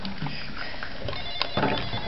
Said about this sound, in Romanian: A sunat telefonul, mama. Ia vezi că a sunat telefonul.